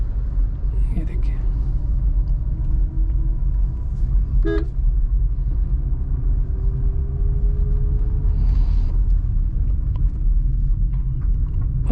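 A car engine runs steadily with a low rumble as the manual car pulls away on the clutch, with a brief horn-like toot midway and a voice talking over it.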